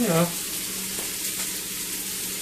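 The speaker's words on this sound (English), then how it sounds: "We're trying to do high heat cooking. Remember, keep it on the heat." Onions frying in a wok over high heat for a Chinese-style stir fry, a brief loud hiss at the start settling into a soft continuous sizzle.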